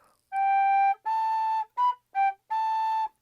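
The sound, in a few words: whistle blown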